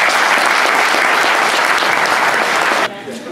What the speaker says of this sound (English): please give a warm Northwood South Shore Lake Superior welcome to Gordon Stevenson.